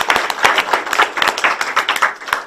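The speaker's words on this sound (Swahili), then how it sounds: "Hore mutungatiri makofi mega" A church congregation clapping for the minister, rhythmic hand claps in uneven bursts close by, fairly loud and lively with no speech over them.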